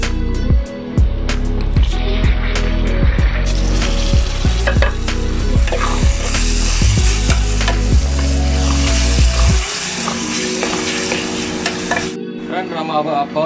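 Tomatoes frying in a pan for Tamil taro root (seppankizhangu) gravy, with steady close sizzling and repeated stirring and scraping knocks through the first half, settling into a continuous sizzle.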